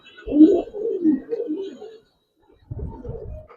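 Racer pigeons coo in a loft, giving a few close, soft, throaty calls in two bursts separated by a brief pause.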